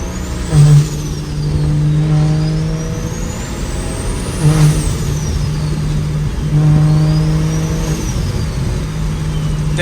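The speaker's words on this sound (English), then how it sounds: "Downshift. Downshift. Third, second. Downshift." Close, loud BMW 335i engine repeatedly revving up and blipping down as the driver downshifts. Several rising pulls each end in a sharp throttle blip and a drop in pitch.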